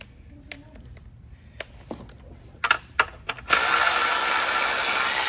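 A ratchet removes bolts from a Jeep Wrangler 3.6 Pentastar engine, heard first as a few sharp, scattered metallic clicks and then as a sudden loud, steady whirring that runs to the end.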